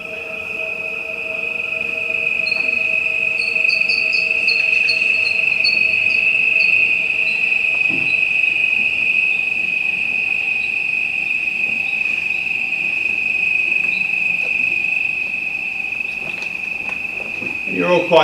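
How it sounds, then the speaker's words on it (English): Crickets chirp in a dense, continuous high trill, with a steady background hiss, played back through phones as spatial audio for about eighteen seconds. "And so now if I send you some crickets,"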